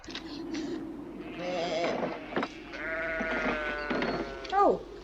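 Sheep bleat several times in a film scene set on the moors, with drawn-out, wavering calls over low ambient noise and a sharper, louder bleat near the end.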